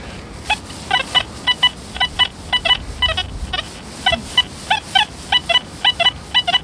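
Rapid bursts of electronic beeping tones from a metal detector signal, in short rhythmic clusters over a low background rumble, close and fairly loud with no voices.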